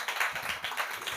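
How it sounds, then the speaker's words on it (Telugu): A church congregation claps together during a Father's Day sermon, with a run of quick, rhythmic handclaps at moderate loudness, heard alone. "గట్టిగా చప్పట్లు కొడదాం."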